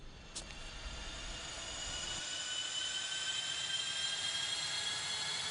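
A steady, sustained roar of jet engines spooling up in an airline advert, building slightly in loudness and holding a constant high whine throughout, with no talk over it.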